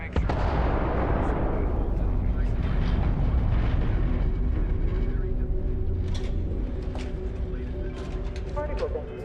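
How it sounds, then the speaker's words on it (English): A particle detonation explosion in Starfield erupts as a loud, deep boom, then trails off into a long rumbling roar with crackling debris and faint mechanical hum over nine seconds. "Particle detonation"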